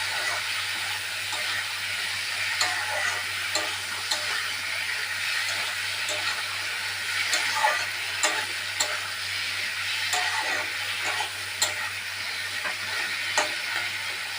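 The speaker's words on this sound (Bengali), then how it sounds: "এবার আমি ছোলাটা দিয়ে দিলাম, ছোলা কড়াইটা দিয়ে দিলাম।" Chickpeas fry in spices in a kadai, giving a steady close sizzle and crackle with occasional stirring clicks, continuous throughout.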